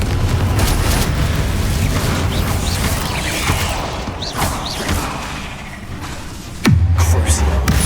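Confringo fire spell blasting in the game Hogwarts Legacy, a dense, loud stretch of crackling bursts and rumbling impacts, ending in a sudden heavy boom with a falling tone near the end.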